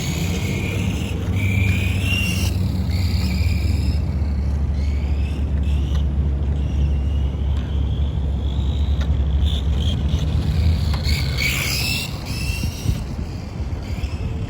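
A 1991 Tamiya Ferrari F40 RC car drives and drifts nearby, its electric motor whining steadily under constant rumbling wind noise for the whole stretch, with some rising and falling pitch sweeps.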